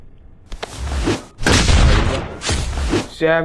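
Deep booming gunshots from the horror game Granny ring out in a few heavy bursts, loud and close, with rumbling thuds between them.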